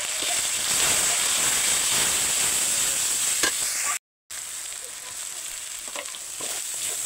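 Onion, garlic paste, ginger and ground spices sizzle steadily in a hot pan, a continuous bright hiss and crackle broken by occasional stirring scrapes and one brief dropout.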